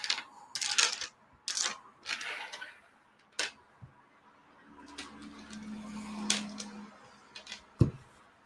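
Sixteen dice rolled across a table during setup for the tabletop RPG Fiasco, a burst of sharp close clatters and rattles in quick succession, then scattered lighter clicks as the dice settle, with a quieter pause between.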